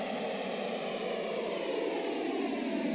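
The jet engines of a plane in SimplePlanes 2 roar steadily and loudly with a high whine, continuous and unbroken, with no voices over them.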